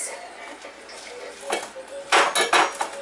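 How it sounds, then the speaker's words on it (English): A knife cuts through a slice of Boboli pizza with onions, garlic and mushrooms on a metal pan. A few clinks and scrapes come close and loud near the end, over a quiet room. "And then I'll cut another one like this."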